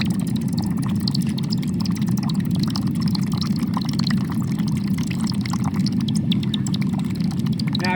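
Molten bronze poured from a height into a bucket of water gives a steady, dense hiss and rushing bubble over eight seconds, close and continuous with no talking.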